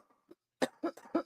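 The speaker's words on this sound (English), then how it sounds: "I'm gonna cough now." A person coughs at close range, a few short, sharp bursts in quick succession after a brief quiet intake of breath.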